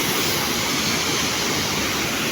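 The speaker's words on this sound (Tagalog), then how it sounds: "Ito yung unang bagsak ng tubig." Water crashes continuously down the first drop of Dagook Falls in Catigbian, Bohol, Philippines, a loud, close, steady roar with no breaks.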